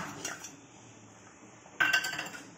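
A spoon stirs a ground paste of grated coconut, cashews and poppy seeds into chicken gravy in a pot, giving light metallic clinks and scrapes, with a sharper burst of clattering near the end.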